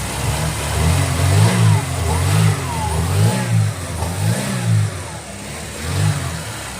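A Japanese-market used car at an indoor auction revs repeatedly, the engine climbing and dropping in a steady rhythm of throttle blips over a constant idle, loud and close, with no one speaking.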